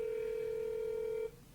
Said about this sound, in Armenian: Մենք արդեն ուղիղ կապով ենք զանգահարում զինվորի մայր